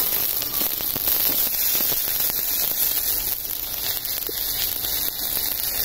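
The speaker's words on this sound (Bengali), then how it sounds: "বেগুনগুলো ভেজে নেবো।" Eggplant pieces frying in a little oil make a dense, continuous crackling sizzle, close and fairly loud, with no talk.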